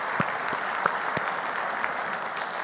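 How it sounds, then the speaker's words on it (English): An audience claps in a steady, dense round of applause at a members' address tribute, with a few sharper claps standing out near the front of the crowd. "Give them a round of applause."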